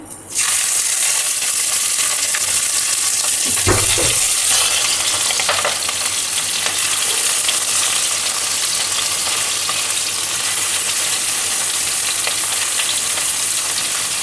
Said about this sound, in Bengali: তেল গরম হয়ে গেছে চিংড়ি মাছগুলো দিয়ে দিচ্ছি